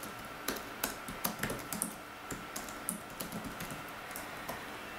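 Fingers tap out a blog post title on a computer keyboard, a close run of crisp, uneven clicks with brief pauses between bursts of keystrokes.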